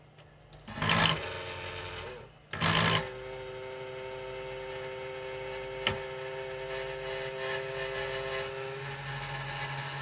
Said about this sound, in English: we have some motor movement